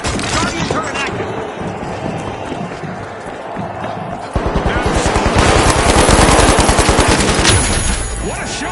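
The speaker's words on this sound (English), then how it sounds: "Guardian turret active." A guardian turret in the video game The Finals fires rapid automatic bursts, loud and close, with the gunfire growing denser and heavier partway through over background game noise.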